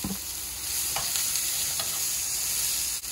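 Onion sizzles in a hot pan with a steady frying hiss, broken by a few stirring scrapes, close and fairly quiet, with no voices.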